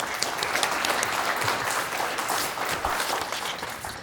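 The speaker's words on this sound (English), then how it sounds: "Give yourselves a round of applause." Steady, full applause from an audience at a senior center volunteer luncheon, indoors, sustained and even throughout with no voices.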